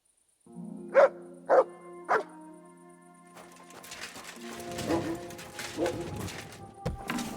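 A dog in the video game Kingdom Come Deliverance 2 gives three sharp, close barks about half a second apart, followed by a busier stretch of game ambience with scuffling and softer noises.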